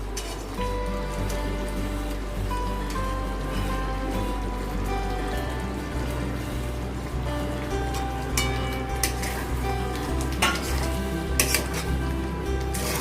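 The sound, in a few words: eggs added to sizzling egg korma gravy in a pan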